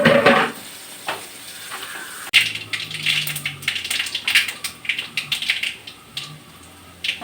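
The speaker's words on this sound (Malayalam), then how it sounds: "നമ്മുടെ കടുക് വറയാണ് ഇവിടെ നടന്നുകൊണ്ടിരിക്കുന്നത്" Mustard seeds crackle and splutter in hot oil in a busy home kitchen, a dense run of small pops and sizzle with occasional clinks of a pan, fairly close and steady throughout.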